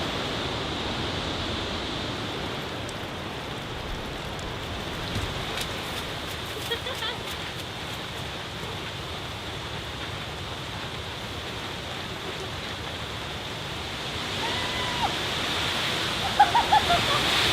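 Heavy cyclone rain in a rainforest at an off-grid home, a steady dense hiss of downpour filling the scene with a few brief louder splashes near the end.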